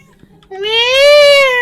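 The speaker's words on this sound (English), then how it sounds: "If you hear Mew Mew, that is the cat that I need to spray of water" A single drawn-out, rising-then-falling meow in a cat-based horror game, loud and close, with a clear harmonic tone against near silence.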